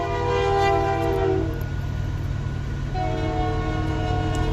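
A train horn blows in long sustained tones, one blast then a second after a short pause, over steady low engine rumble.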